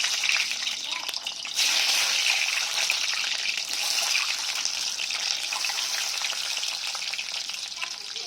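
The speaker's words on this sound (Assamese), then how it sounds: "এতিয়া মই প্ৰথমে ডিমকেইটা ভাজি ল'ম" Eggs frying in hot oil in a wok, a loud bright sizzle that jumps in intensity early on and then crackles steadily close by, with no talking over it.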